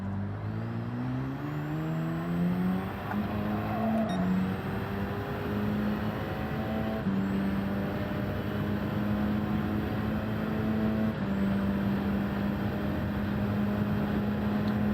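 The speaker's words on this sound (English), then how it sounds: "these Vision cars, they can sound like weird stuff" Futuristic Vision concept car engine in Gran Turismo 7, a steady droning tone that climbs in pitch and steps up through gear changes at about 4, 7 and 11 seconds, loud and continuous with no talk.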